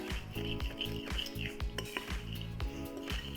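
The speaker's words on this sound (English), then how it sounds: "mixing from the outside of the bowl in, I'm going to incorporate them together" Banana pancake batter being mixed in a bowl, rapid rhythmic clinks and scrapes of a utensil against the bowl, close and steady with no talking.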